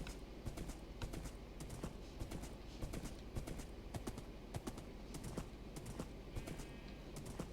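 Skeleton horse hooves walking in Minecraft on a Nether server, a soft irregular run of clopping steps beneath low game ambience, faint and steady with no speech.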